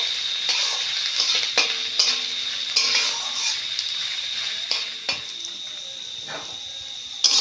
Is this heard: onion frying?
yes